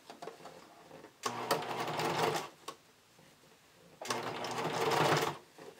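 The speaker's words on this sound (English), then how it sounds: "So again, this is getting stitched to the seam allowance only." Sewing machine stitching underwire channeling onto a bikini top's seam allowance, two loud bursts of rapid stitching about three seconds and one and a half seconds long, with a quiet pause and a brief blip between them.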